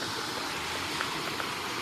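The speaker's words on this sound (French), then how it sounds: "là vous avez une belle cascade" Waterfall on a lakeside walk, a steady broadband rush of falling water that fills the clip evenly and continuously, fairly close with no talk over it.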